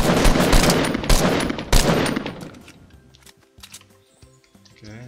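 Gunfire rings out in the video game Fortnite Battle Royale: loud rapid bursts of shots over the first two seconds, then scattered quieter game effects and clicks.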